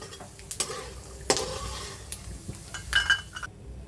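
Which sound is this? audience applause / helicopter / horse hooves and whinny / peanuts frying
peanuts frying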